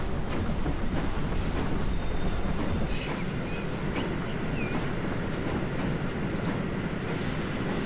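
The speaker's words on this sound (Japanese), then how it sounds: "列車はスイッチバックいたしました" A continuous rumbling roar of a train running along the tracks through a switchback in Transport Fever 2, steady and fairly loud throughout, with faint squeals and clatter mixed in.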